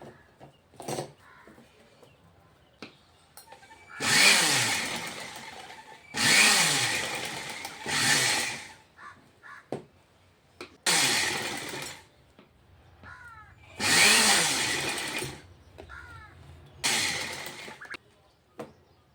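Domestic sewing machine stitching lace onto a princess-cut blouse, running in several loud bursts of a few seconds each, separated by quieter pauses with small handling noises.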